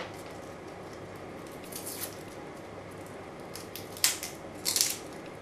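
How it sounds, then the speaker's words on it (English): Garlic clove crushed under a flat knife blade on a cutting board, heard as a couple of short, crisp crunching presses standing out from a quiet kitchen background. "And then you just crush it with a knife."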